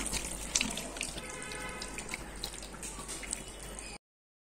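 Milk is poured into a cooking pot in a continuous splashing stream for about four seconds, close and fairly loud, then the sound stops abruptly.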